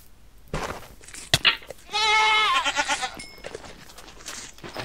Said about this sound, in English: Hello, there's a goat.